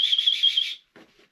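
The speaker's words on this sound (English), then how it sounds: "a chest strap here with your emergency whistle" Emergency whistle on a Pilgrim Speedwell hiking backpack chest strap gives one shrill, loud blast under a second long, followed by a short faint trailing sound.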